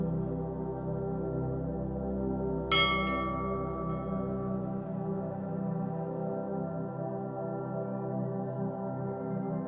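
A single bell is struck once, clear and ringing, during a relaxation session, its tone lingering and slowly decaying over a steady soft background drone.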